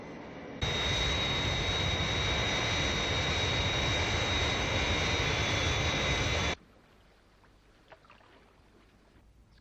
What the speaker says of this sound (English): Scott has made a good takeoff